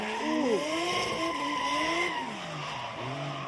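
A Formula Drift car slides sideways through a gymkhana zone at Okuibuki Motorpark during qualifying, engine revs rising and falling under a loud, sustained tire squeal that sweeps in pitch.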